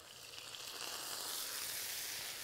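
Tomatoes and green chillies hit a hot tawa in a rural mud-house kitchen, a steady soft hiss of frying that builds slightly and holds, close and fairly quiet with no talk.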